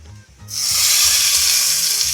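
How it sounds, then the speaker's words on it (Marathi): Hot tempering poured over chutney erupts into a loud, steady hiss of sizzling oil that starts abruptly and holds close up. "ते आपल्याला आता चटणीला वरून फोडणी घालायची आहे"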